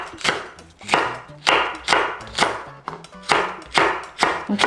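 A knife chops Cheongyang chili peppers on a cutting board while squid stir-fry is being prepared, giving about nine sharp, evenly spaced, close-up knocks with no talking.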